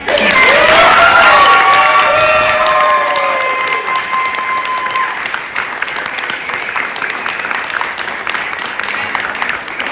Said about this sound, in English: I wanna open with a round of applause for children.